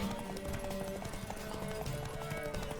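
A horse's hooves clip-clop rapidly in a race in The Witcher 3: Wild Hunt, a quick rhythmic drumming heard faintly under game music and ambient sound.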